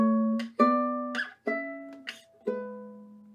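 Ukulele plays Tarrega's Lagrima fingerstyle, combining melody with a bass line: four or five plucked, ringing chord-notes in a slow rhythm, clear and close with no talking.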